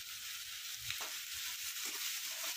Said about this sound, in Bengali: ভালো করে ফ্রাই করে নিতে হবে এটা।